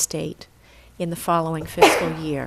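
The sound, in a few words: someone sneezing during a meeting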